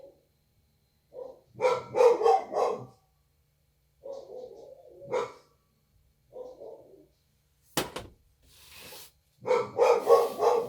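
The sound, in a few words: dogs barking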